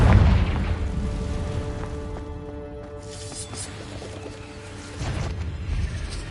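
A Confringo blasting spell in Hogwarts Legacy bursts with a deep booming explosion at the start, a rumbling tail fading under tonal game music, then a second heavy blast near the end.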